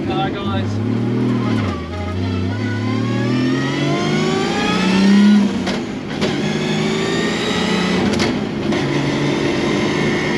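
A car engine revs and shifts on a first drive along New Zealand roads, rising and falling pitch sweeping through gear changes, heard from inside the cabin under intermittent talk.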